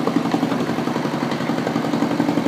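A rebuilt Volvo Penta MD2010 marine diesel engine runs steadily just after starting, with a continuous, moderately loud, even rhythmic chug from close by and no talk over it.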